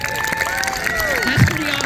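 An outdoor audience at a school's new turf athletic field groundbreaking claps in a quick burst of scattered applause mixed with crowd noise and chatter.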